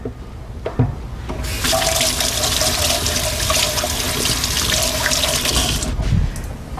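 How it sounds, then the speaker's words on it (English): Water runs steadily from a kitchen tap while hands are washed, a close, loud splashing rush lasting several seconds after a brief knock. "Wash my hands one more time."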